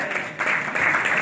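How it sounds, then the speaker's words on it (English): A church congregation claps in praise, a brief burst of hand clapping that swells after a short dip and stays loud to the end. "Give the Lord a hand clap of praise."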